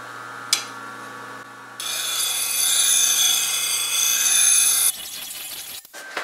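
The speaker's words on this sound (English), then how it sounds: "So to sharpen it, turn on my thing here." Sharpening machine grinding a spindle roughing gouge, a steady abrasive whir with bright grinding noise that rises when the tool meets the wheel, then cuts off into a few faint handling clicks.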